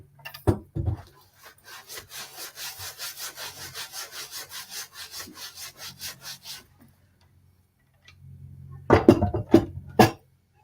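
A wooden cutting board being scrubbed in bleach water: a steady series of rhythmic back-and-forth rubbing strokes, close and moderately loud, then a pause, followed by a few harder scrapes and knocks.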